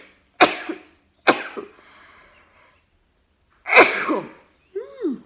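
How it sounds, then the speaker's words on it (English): Two sharp sneezes in quick succession from someone with allergies, then a third louder, drawn-out sneeze after a pause, followed by a short vocal sound; close and alone. "Boys and girls, I'm going to sneeze."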